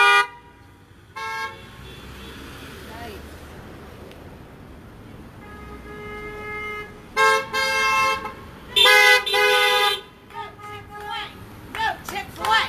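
Cars circle a drive-by protest over a proposed Chick-fil-A in Camp Hill, honking in short and sustained blasts scattered through the stretch over a low traffic and crowd murmur.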